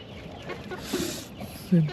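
Backyard chickens kept by an OFW in Taiwan give a few soft clucks at close range, with one louder cluck near the end over a quiet outdoor background.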